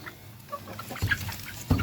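Chickens and chicks cluck and chirp nearby in a village, in short, scattered calls, with a few louder squawks toward the end.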